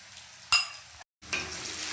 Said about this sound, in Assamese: এতিয়া আদা নহৰুখিনি কেঁচা গোন্ধটো নাইকিয়া হোৱালৈকে ধুনীয়াকৈ ভাজি ল'ম।